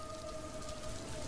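Heavy cartoon rain falls in a dense, steady hiss of drops, with a faint sustained tone running through the whole stretch.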